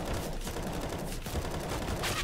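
Rapid, steady gunfire in CS:GO, a continuous rattle of shots at moderate loudness with a brighter burst near the end and no clear talk over it.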